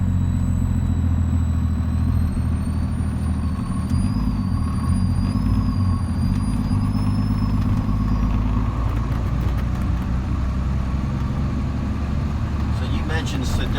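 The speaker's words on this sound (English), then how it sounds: "Sedona does have an exhaust brake" A 2013 Kenworth T370 wrecker truck with a 350 HP Paccar PX9 engine makes a steady, loud, low diesel rumble with an exhaust-brake drone that holds throughout and eases off near the end, under people talking in the cab.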